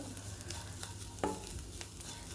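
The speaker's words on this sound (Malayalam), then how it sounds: "ഞാൻ നമ്മുടെ ഉള്ളിത്തീയലിനുള്ള തേങ്ങ ഇവിടെ ഇങ്ങനെ വറുത്തുകൊണ്ടിരിക്കുകയാണ്." Grated coconut dry-roasting in a pan for onion theeyal gives a steady low sizzle, with a brief louder scrape of stirring partway through.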